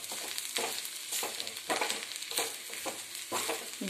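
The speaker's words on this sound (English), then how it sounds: "Don't do deep fry, light fry, half minute only stir it." Onion, garlic, green chili and grated coconut are lightly fried and stirred in a pan, a moderate sizzle broken by rhythmic scraping strokes of the spoon every half second or so, no voices.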